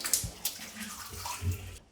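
Water splashes and rinses over a shower surface being cleaned of hard water stains, short faint gushes and spatters close by.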